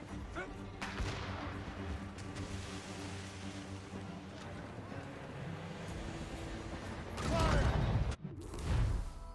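Ship cannons fire in a naval battle in the video game Assassin's Creed Rogue, with booming shots and a loud, heavy barrage near the end, set against game music and a voice shouting orders.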